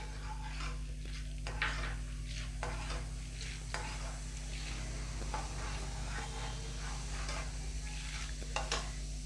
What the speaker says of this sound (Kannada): ಹುರುಗಡಲೆ ಒಂದು ಮುಕ್ಕಾಲು ಬಂದಷ್ಟು ಅದು ಹಾಕ್ತಾಯಿದ್ದೀನಿ ಇದು ಸ್ವಲ್ಪ ಫ್ರೈ ಮಾಡ್ಕೊಂಬಿಡೋಣ